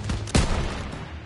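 Gunfire in Call of Duty WW2 during a courtyard firefight, a rapid burst of loud, close shots with one heavy report standing out, then a trailing rumble of continued fire.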